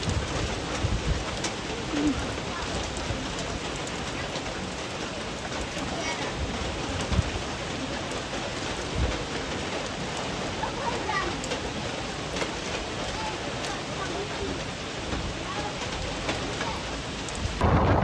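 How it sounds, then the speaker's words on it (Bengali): Heavy rain pours down on Kongluk hill in Sajek, a dense, steady hiss of downpour on surfaces with gusts of wind, loud and enveloping for the whole stretch, with occasional faint bird calls in the background. "ঠিক সেই মুহূর্তে একেবারে মারাত্মক লেভেলের বৃষ্টি শুরু হয়ে গেছে।"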